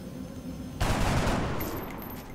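Gunfire in the XCOM Long War video game, a sudden loud burst of shots that cuts in sharply and then trails off into a decaying rumble.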